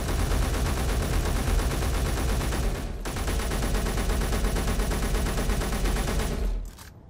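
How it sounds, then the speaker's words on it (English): Heavy automatic turret gun in a video game firing in a dense, continuous loud burst, briefly dipping near the middle before resuming and cutting off near the end. "God, this gun kicks."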